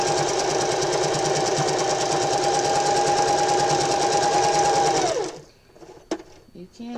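A sewing machine stitching pants runs in a loud, steady, continuous whir close up for about five seconds, then winds down and stops, followed by a few small clicks and handling noises.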